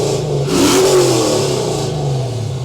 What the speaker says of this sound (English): Rev the engine, sir.